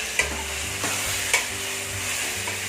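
Potatoes frying in oil for mutton kuzhambu, a steady close sizzle broken by a few scraping stirs of the pan, with no voices.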